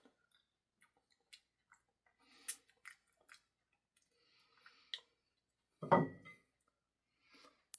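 Waffles topped with sixty-year-old maple syrup being chewed, with scattered soft clicks and squishy mouth sounds, and one louder wet bite near the middle, close and quiet with no talking.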